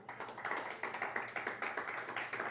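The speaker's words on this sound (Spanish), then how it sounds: "Vamos a dar un aplauso fuerte al Señor." Church congregation applauding, a rhythmic burst of unison clapping at a moderate distance, steady beats continuing throughout with no voices.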